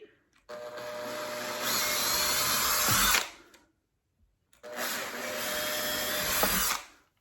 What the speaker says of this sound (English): you're just going to drill right through that hole. Again, it drills on 2 for high speed.